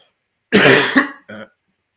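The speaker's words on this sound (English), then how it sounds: "sorry about the cough" One harsh, close cough followed by a shorter second cough from a man on a live sports talk show, loud against an otherwise silent background.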